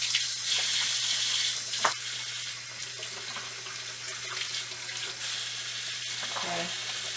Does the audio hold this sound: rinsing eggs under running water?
yes